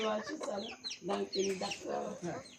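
Chickens clucking among ducks at feeding time, a busy run of close, repeated clucks and squawks with a voice talking over them.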